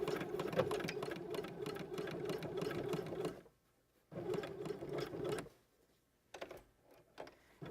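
A sewing machine stitches a centered lapped zipper in steady close whirring runs, stopping and starting several times with short quiet gaps between bursts.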